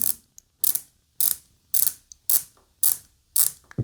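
A budget AliExpress watch's rotating bezel clicks in short bright ratcheting bursts, about seven evenly spaced turns, each a crisp close-up run of detents with silence between.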